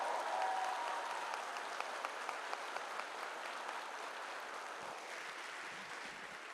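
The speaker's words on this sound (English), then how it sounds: "I would just like to give one big round of applause to Miss Haley Bovee" Steady, soft applause from an audience at the Hastings fall choir concert, an even wash of clapping that continues without a break.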